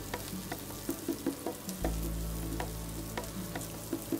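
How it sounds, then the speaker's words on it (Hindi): Chilli prawn ingredients with capsicum pieces stir-fry in a hot pan, giving a steady close sizzle broken by regular clinks and scrapes of the stirring spoon. "ये सारी चीज़ों को एक साथ में 1 मिनट के लिए भूनेंगे"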